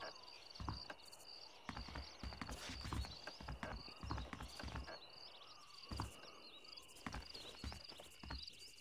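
Horses' hooves clip-clop in an uneven, steady walking rhythm in the Western video game Red Dead Redemption, with crickets chirping in the background of a quiet night scene.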